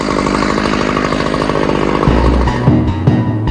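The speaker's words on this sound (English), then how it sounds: "Basically what you'll use is like a chainsaw, which has a carbide blade on it" A chainsaw with a carbide blade roars steadily at close range while cutting up an airplane, its engine note dropping and surging near the end as the cut shifts.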